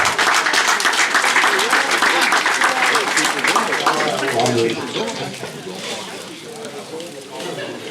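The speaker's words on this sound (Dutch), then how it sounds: "Nou, een applaus voor Petra" Applause from the audience for Petra at a Dutch local carnival opening, dense steady clapping that fills the first few seconds and then thins and fades, with voices talking underneath.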